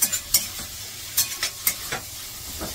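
Safflower greens stir-fried with red chilli, garlic and cumin crackle in a hot pan, with a soft sizzle under repeated sharp scraping strokes of a spatula spaced unevenly through the clip.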